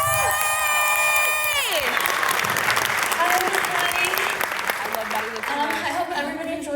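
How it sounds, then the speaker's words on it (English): An audience at a university spring student showcase applauding and cheering, dense sustained clapping with shouts, picking up as a sung note ends, then continuing under talk and voices. "Everyone give a round of applause."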